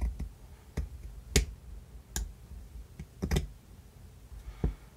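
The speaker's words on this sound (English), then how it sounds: "we're going to make a cut going straight across diagonal." Scissors snipping through T-shirt fabric to make yarn, a series of crisp, close clicking cuts at irregular intervals, some doubled, over a quiet background with no talk.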